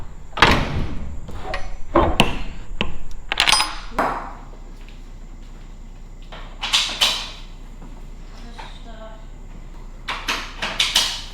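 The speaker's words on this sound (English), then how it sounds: "We've got to shut our trailer doors." Semi truck trailer doors are swung shut and latched, giving a run of sharp metallic bangs, clanks and rattles in clusters, close by, with quiet stretches between.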